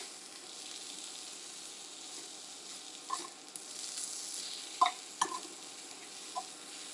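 Crab cakes frying in a pan, a soft continuous sizzle with a few louder crackles and clicks as they are turned with a utensil.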